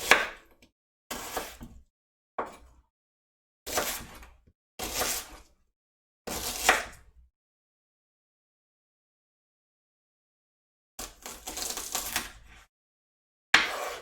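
An onion is chopped on a cutting board in short bursts of quick knife strokes, separated by pauses of silence, with one longer gap before the final few bursts.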